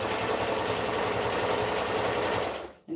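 A sewing machine stitches at a steady, even pace with a close mechanical whir and rhythmic needle clatter, then stops abruptly near the end.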